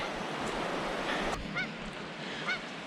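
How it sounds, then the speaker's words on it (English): A goose honks on a cold island shore near a natural hot spring, giving a few short, sharp calls at a moderate distance over steady background wash and rumble, with no talking. "That goose right there has been honking, and he interrupted part of my intro."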